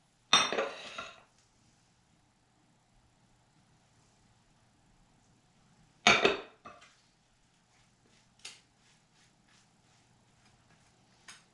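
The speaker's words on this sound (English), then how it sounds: "I'm going to put a little bit of butter on it." A knife spreads butter on fresh baked bread in a quiet kitchen: a few short, close scraping strokes with small clinks, separated by long near-silent gaps.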